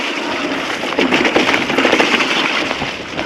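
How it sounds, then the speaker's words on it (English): Steady broadband hiss of rain falling on a hillside trail at Rowberrow Warren in the Mendips during a mountain bike ride, loud and continuous with denser patches, no speech. "And some perfectly timed rain."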